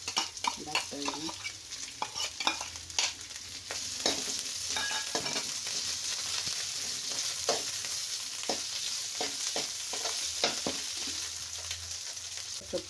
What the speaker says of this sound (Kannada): ಈರುಳ್ಳಿ ಸ್ವಲ್ಪ ಬಾಡಿದ್ಮೇಲೆ ಮತ್ತು ಹಸಿಮೆಣ್ಸಿನ್ಕಾಯಿ ಮತ್ತು ಆಲೂಗಡ್ಡೆ ಹಾಕ್ತಾಯಿದ್ದೀನಿ